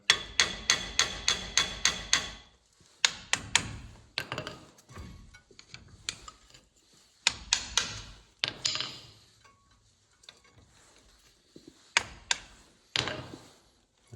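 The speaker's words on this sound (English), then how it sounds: "So I'm going to start by taking off this grease cap and just see what I'm looking at." A flathead screwdriver is hammered and pried against a car wheel hub grease cap, producing rapid bursts of sharp metallic tapping and knocking in uneven clusters with short pauses, close and clear.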